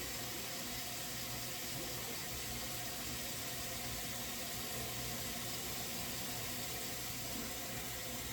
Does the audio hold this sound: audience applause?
no